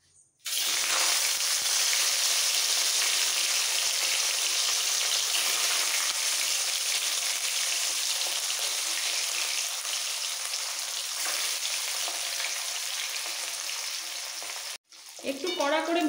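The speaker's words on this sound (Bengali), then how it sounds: "তেল ভালোভাবে গরম হয়ে যাওয়ার পর এর মধ্যে মাছ ছেড়ে দিচ্ছি।" Rohu fish pieces frying in hot mustard oil in a wok, giving a loud, steady, close sizzle that starts abruptly and continues unbroken, then drops briefly near the end.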